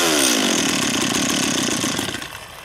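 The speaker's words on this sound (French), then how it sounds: "j'essaye, ça démarre à cale, je remonte d'un cran" A chainsaw engine with its choke switch set to the lowest position fires up and runs loudly at high revs for a few seconds, then begins to die away toward a stall.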